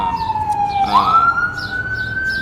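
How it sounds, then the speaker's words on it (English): A wailing siren sweeps down then rises again as it passes close by, loud over faint street noise. "right after the siren goes by."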